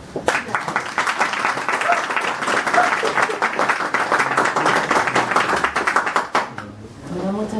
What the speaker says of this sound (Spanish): Los dejo con Andrea Franulich para que él pida un gran aplauso.